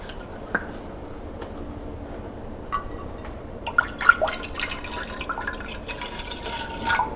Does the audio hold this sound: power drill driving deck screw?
no